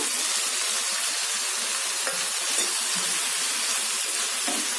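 Brinjal and tomato fry in hot oil in a pan, giving a steady, close sizzling hiss that continues evenly throughout with no talking.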